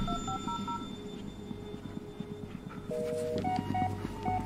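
Touch-tone dialing beeps from a phone in the Blair Witch video game, a few short tone pairs stepping over a steady low hum and music bed, then a brighter run of tones near the end; no voices.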